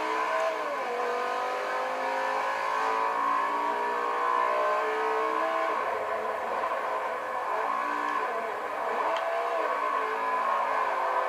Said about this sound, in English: this Gallardo, rear-wheel drive, so we're gonna see how this launches